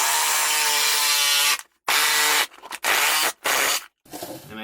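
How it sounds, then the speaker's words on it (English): A Sawzall reciprocating saw fitted with a bimetal blade cuts through PVC pipe in four or five loud, buzzing bursts, each cut off by a short silent gap, close and alone. "if you're going to use a Sawzall to use a bimetal blade, I think the bimetal blades actually work best for cutting PVC"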